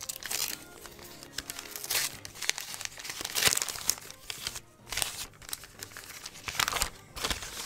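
Newspaper-style packaging paper is crinkled and torn open while a parcel of mail from Germany is unwrapped, giving close, irregular bursts of rustling and crumpling with brief pauses between handfuls.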